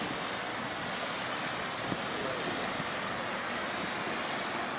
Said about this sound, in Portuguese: Aqui é o voo do Felipe, o cauteloso